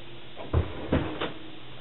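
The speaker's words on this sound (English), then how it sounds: "Let me just shut down the lid door." A lid door on lab equipment being shut while making zinc sulfide, heard as two quick close thumps about half a second apart followed by a lighter third knock, in a quiet room with no talking.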